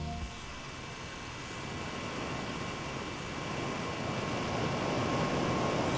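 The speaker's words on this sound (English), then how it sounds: "let's do the sound test of the fan inside" A small cooling fan inside a 25W wireless charger runs with a steady, close-miked whir and airy hiss, holding even and continuous throughout.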